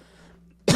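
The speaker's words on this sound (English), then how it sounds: "I gotta stop coughing" A single sharp cough bursts out close to the microphone at the very end, following near-silence with only a faint steady hum beforehand.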